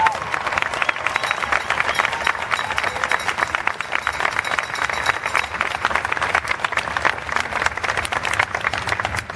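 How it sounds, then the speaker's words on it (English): An audience at the National Archives in Washington DC gives a round of applause, loud and continuous massed clapping that holds steady throughout. "One more round of applause."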